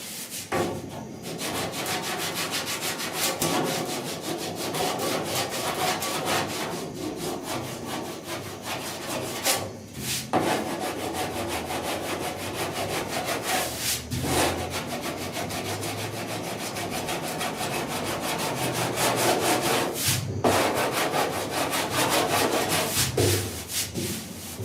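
Sanding block rasping steadily across body filler on the dash of a 1966 Ford F100, a continuous close scraping with brief pauses between runs.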